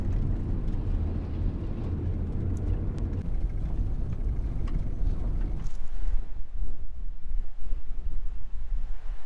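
Strong wind buffets the microphone with heavy low rumbling at the north point of Anticosti Island, then shifts to gusty, uneven roaring over what sounds like distant surf.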